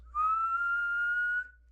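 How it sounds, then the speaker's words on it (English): A single sustained whistle made while breathing in, a smooth steady tone held for over a second, close and clear against silence. "Is that an inhale whistle?"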